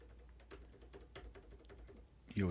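Someone types on a computer keyboard, a quick irregular patter of soft key clicks, faint and close, ending as a voice starts speaking.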